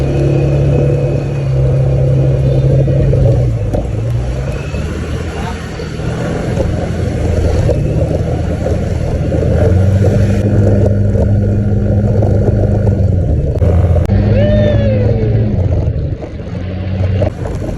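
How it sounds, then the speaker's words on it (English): A rented motorbike rides along roads in Thailand, its engine droning and shifting pitch as it speeds up and slows, with loud wind rush and traffic noise around it. "your boy is a freaking professional on these motorbikes"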